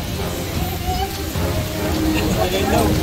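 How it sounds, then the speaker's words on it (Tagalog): Steady rain falls on an outdoor scout jamboree campsite, a constant hiss of drops on surfaces that grows slightly louder toward the end, with a faint murmur of voices underneath. "Oh my, it's raining."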